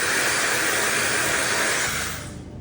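A replica Dyson hair blower for a mini barbershop runs with a loud, steady, broadband whoosh and hiss that holds for about two seconds, then winds down at the end, with no talking.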